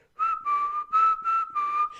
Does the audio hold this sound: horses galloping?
no